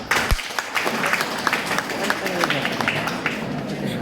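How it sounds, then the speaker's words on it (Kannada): An audience at a talk bursts into applause, a dense, continuous patter of many hands clapping at once that fills the room for several seconds, with voices mixed in. "ಹಾಕಿ ಅವ್ರ ಚಪ್ಪಾಳೆ."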